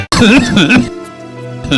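A short cough with a throaty, voiced clearing in a Hindi cough syrup advertisement, loud and close, heard twice, followed by a steady sustained tone.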